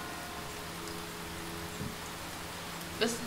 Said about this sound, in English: all I heard was the sound of raindrops and umbrellas